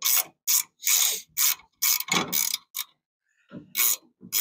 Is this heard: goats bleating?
no